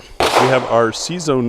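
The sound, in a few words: background gunfire at a busy shooting range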